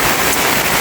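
Heavy rain pours steadily in a town, a dense continuous hiss of water with no breaks over a short stretch, loud and close, with no voices.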